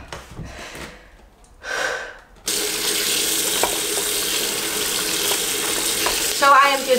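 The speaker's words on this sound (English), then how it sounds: "So I am just rinsing this roller until the water is completely clear" A paint roller is rinsed under running water, a steady splashing rush after a few quieter scrapes and rustles at the start, close by and with no talking.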